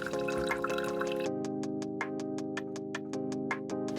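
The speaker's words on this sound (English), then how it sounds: "I'm gonna go ahead and strain out my sun-dried tomatoes that I had" Water drips from strained rehydrated sun-dried tomatoes, a run of quick, evenly spaced close drops over a steady background hum after a brief splashy start.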